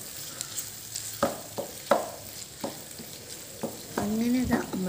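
Squid roast being stirred in a frying pan after tomato ketchup is added, soft sizzling under a series of scraping spoon strokes, with a louder spatter near the end.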